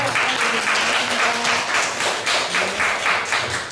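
An audience at Busan's Energy Day declaration ceremony claps together in a steady rhythmic beat, a loud pulse of hands repeating about three times a second throughout, with no one speaking over it.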